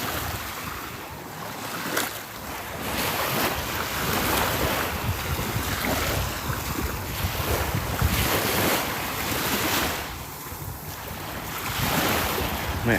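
Ocean waves and steady wind at Little Hickory Beach make a continuous, loud wash of surf, with strong wind noise buffeting the microphone throughout and no talking.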